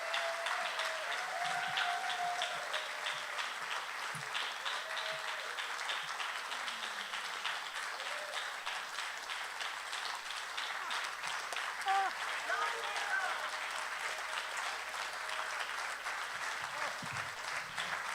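Audience at a Friday night folk concert applauding steadily and warmly for a long stretch, a dense wash of clapping filling the room, with a voice occasionally heard faintly under it.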